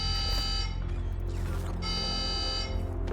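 A facility alarm blares in Call of Duty: Black Ops 6, a loud, harsh, buzzing electronic tone sounding in two long bursts with a brief break between them, close and dominant over low game ambience.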